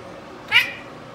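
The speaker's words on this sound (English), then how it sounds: "This is Wilfred the cat" A single short cat meow rises briefly at mid-clip over faint background hiss, close and moderately loud.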